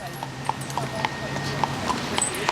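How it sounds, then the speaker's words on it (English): Horse hooves clip-clopping in a steady rhythm as a horse-drawn jaunting car passes through Killarney town, the hoof strikes crisp and fairly near over a background hum, with voices nearby. "Killarney is famous for its jaunting cars, so all throughout the town you're going to see horse-drawn carriages"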